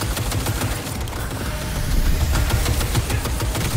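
Rapid automatic gunfire in the video game Cyberpunk 2077, dense overlapping bursts of shots that continue without pause and grow slightly louder partway through.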